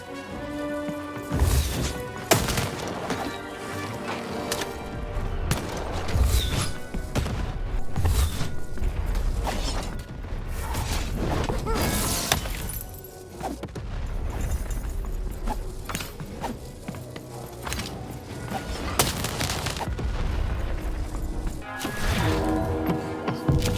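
Cannon fire and heavy crashing in the Lost In Random video game, with repeated booming impacts and mechanical clatter over dense game music throughout.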